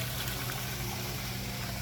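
Water flows back by gravity, without any pump, into a hydroponic cistern on a farm in Indonesia, a steady rushing and gurgling wash that stays even and fairly quiet throughout with no talking.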